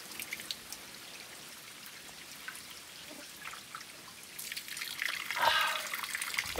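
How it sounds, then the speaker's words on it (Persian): Spring water runs and trickles from an outdoor drinking spring, a quiet, steady splashing that grows louder and fuller toward the end. "اینم یه چشمه ای که من هر سری میرسم از اینجا آب میخورم"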